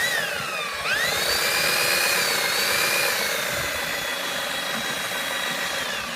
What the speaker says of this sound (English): as we wind it up, the line will come in straighter